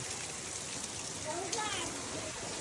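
Steady rain hisses over a surface throughout, with a faint voice briefly heard beneath the downpour.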